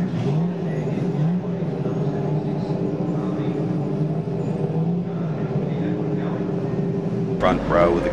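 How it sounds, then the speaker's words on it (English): Group A and Group C muscle race cars, including a Nissan Skyline GTR, rumble onto the grid at a 2011 race meeting, a steady engine drone under continuous commentary with a brief revving rise at the end. "The cars come out now to get the race start underway."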